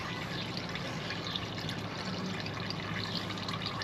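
Engine oil draining from a 2014 Kia Optima, a continuous steady liquid pour with a faint trickling texture, close and even throughout.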